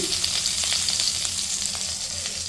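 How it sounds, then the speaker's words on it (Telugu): Cumin seeds and asafoetida crackling in hot oil in a wok for a drumstick leaf chutney, a dense, even sizzle with light pops throughout. "నూనె కాగిందే జీలకర్ర వేసుకోవాలి ఇంగు వేసుకోవాలి"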